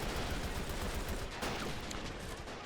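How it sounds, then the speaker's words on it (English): Rifle fire in the war game Men of War: Assault Squad, a dense, continuous crackle of many overlapping shots that forms a steady, loud roar of distant battle. "Riflemen are still shooting, though."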